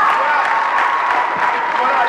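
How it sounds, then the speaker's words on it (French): Audience applause at a public debate on a common African currency, a dense, steady wash of clapping from a crowd filling the whole stretch at even loudness. "On peut applaudir pour le Bon Berger, mesdames et messieurs"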